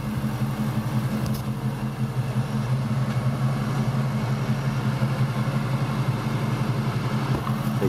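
Car engine idling steadily with a smooth, even low hum and a constant throb throughout, close and fairly loud, with no talking.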